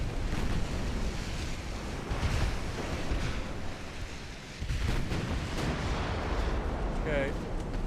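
Naval guns firing on battleships and a light cruiser in Ultimate Admiral Dreadnoughts: a continuous wash of distant booming salvos and rumbling impacts over a sea-and-wind bed, with a short whistling tone near the end.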